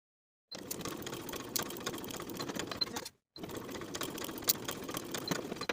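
A sewing machine runs along blouse shoulder seams in two steady bursts of rapid mechanical stitching separated by a brief pause, close and even with no voices.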